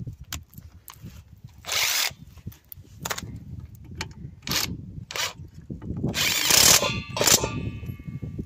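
A new impact wrench works on a Mk3 Cortina, firing several short loud bursts of rattling hammering, with clanks and metallic handling between them, close by and with no talk.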